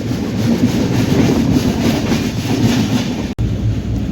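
Inside a coach of the Mandovi Express gathering speed out of Dadar, the wheels keep up a dense, steady clickety-clack rumble, broken by one brief sharp dropout near the end.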